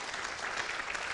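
A church congregation claps together in a steady, dense burst of applause filling the room, fairly close and even throughout, with no talk over it.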